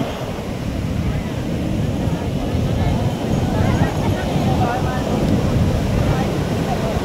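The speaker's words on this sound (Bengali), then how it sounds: "দেখো এবার ওইখানে গিয়ে দেখো এত বড় ঢেউ আসছে" Steady roar of surf on the beach at Puri, India, with waves washing continuously, mixed with wind buffeting the microphone and faint voices in the background.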